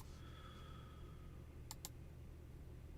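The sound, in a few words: computer mouse clicking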